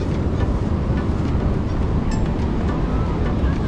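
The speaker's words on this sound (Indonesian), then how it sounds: "Ini ombaknya seru-seru dahsyat ya" Ocean surf at Double Six Beach, Bali, roars steadily as a broad, rushing wash of waves, buffeted by wind against the microphone.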